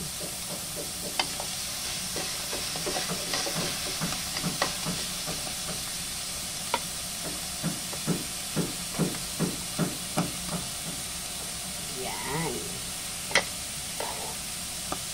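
Vegetables with onion sautéing in a pan give a steady, quiet sizzling hiss, broken by a rhythmic run of spatula taps and scrapes against the pan.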